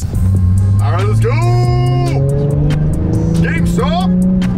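Steady low engine drone of a car being driven on the road to a store dumpster, running continuously throughout, with people talking over it.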